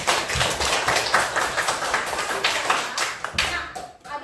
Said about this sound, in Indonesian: Kasih tepuk tangan untuk Zahra